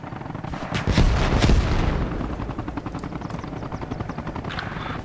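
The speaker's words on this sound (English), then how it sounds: "3 times missile strike." Missile strike on yellow buildings in the video game Arma Reforger, heavy booming impacts in the first two seconds over a steady helicopter-like rotor drone that continues throughout.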